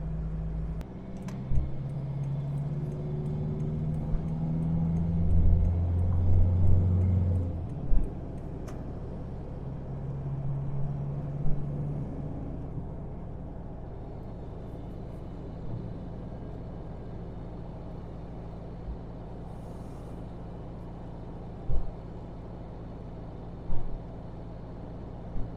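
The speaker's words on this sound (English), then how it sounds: "that motorhome just went past" A motorhome towing a small car drives past on a rural road near Sutton Bank, a broad low engine and tyre rumble swelling then fading, heard from inside a vehicle with occasional knocks and clicks.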